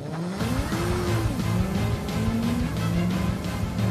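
A car approaches fast on a driving course, its engine revving loudly and rising and falling in pitch with short tire squeals, close and continuous over four seconds with no talking.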